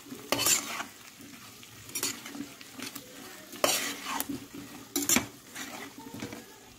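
Potato pieces with a pinch of salt being stirred and fried in a pan over low-to-medium heat: a series of scraping spoon strokes against the pan over a soft, steady sizzle, with occasional clinks.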